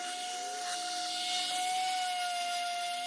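A vapor blaster cleans a Kawasaki KX125 motorcycle part with a steady, loud hiss and rushing spray over a constant high whine, continuous and close with no speech.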